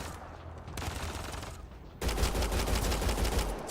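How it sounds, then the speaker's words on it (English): Pistol gunfire in a video game, a dense, continuous rattle of rapid shots that jumps noticeably louder partway through. "It's not quite the same as the Typhoon firing a pistol"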